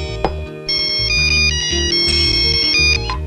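A cell phone ringtone plays loud and continuous, a looping electronic melody of stepped tones in a Tamil comedy film scene, with no talk over it.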